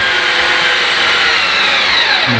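A Parkside PSF 4.6 A1 cordless screwdriver drives screws, a steady high-pitched motor whine running continuously and close throughout with no pauses.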